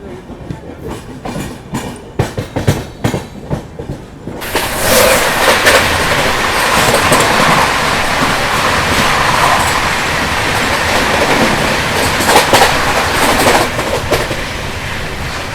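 Garib Rath express train running on rails at night, a loud steady rumble of wheels on track with rhythmic clatter, preceded by a few seconds of irregular knocking, close and continuous, no voices.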